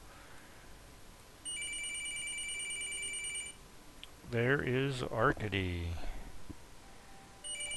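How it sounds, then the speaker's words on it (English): A telephone rings in the Van Helsing video game, a steady electronic trill sustained for about two seconds, starting again faintly at the end. Someone speaks briefly in between. "And let's stop that phone from ringing."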